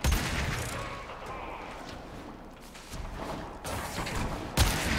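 Gunshots in the video game Warframe, a sharp loud burst at the start, then quieter scattered firing and mechanical clatter, with another sharp shot near the end.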